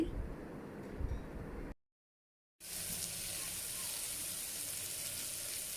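Ginger garlic paste and tomato frying in a pressure cooker pot, a steady soft sizzle that cuts out briefly and then returns, fairly faint and with no talk over it.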